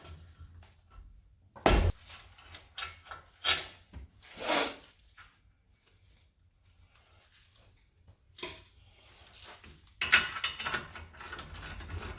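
A ratchet with a 21mm socket works loose the brake caliper bolts on a 2015-2020 Ford F150, in scattered bursts of close, crisp pawl clicking with a few louder metallic clunks and quiet gaps between.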